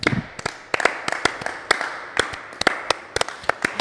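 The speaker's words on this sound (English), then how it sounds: "Round of applause." Sparse applause from a small audience at a business talk, distinct individual claps landing irregularly and close by, a few hands rather than a full ovation, with soft room ambience between them.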